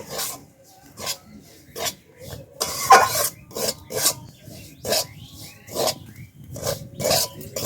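Semolina frying in ghee in a pan for sujir halwa, stirred with a spatula: a run of rhythmic rasping scrapes, close and steady, with no talk.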